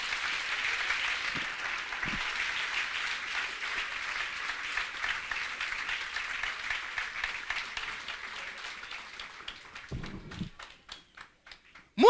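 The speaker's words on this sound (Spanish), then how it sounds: "Denle un aplauso al Señor en esta noche." A church congregation claps at an evangelical sermon, dense sustained applause that slowly thins and breaks into a few scattered final claps.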